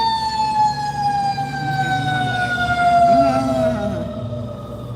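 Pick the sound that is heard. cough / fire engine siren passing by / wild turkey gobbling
fire engine siren passing by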